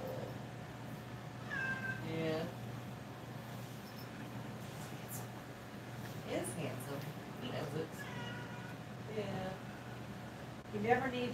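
A cat meows several times at close range, short rising calls scattered through the stretch, mixed with people chatting and a steady background hum.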